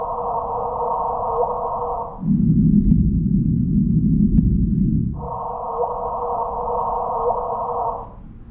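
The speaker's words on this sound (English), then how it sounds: "If you could hear the gravitational waves that the two LIGO detectors have recorded," Gravitational waves recorded by the two LIGO detectors, converted to sound: a sustained droning hum shifts into a lower rumbling throb midway, then returns to the higher hum before fading.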